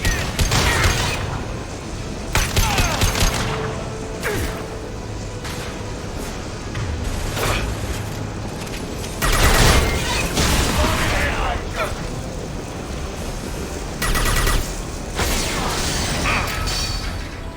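Gunfire bursts and heavy metallic crashes as a loose fuel tank is brought down in the Mass Effect 2 PC game, loud and repeated bangs over rumbling mechanical creaks, with voices calling out between impacts.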